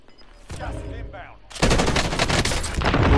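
Gunfire from a sniper in Call of Duty Warzone, a loud, dense burst of shots that starts abruptly and keeps going to the end, after a quieter stretch of game sound.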